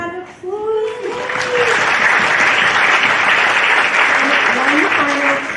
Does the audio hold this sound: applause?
yes